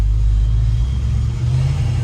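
A 1965 Chevrolet El Camino without power steering cruises along, its engine giving a steady low rumble that holds at an even pitch, close and continuous with no talking.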